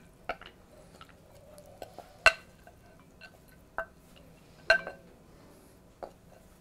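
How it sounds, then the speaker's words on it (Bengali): Salad served into a small bowl, heard as a handful of faint, sparse clinks and soft taps spaced a second or more apart over a quiet background. "তার জন্য আমি একটা ছোট বাটি নিয়েছি, আমি এখানে ঢেলে পরিবেশন করব।"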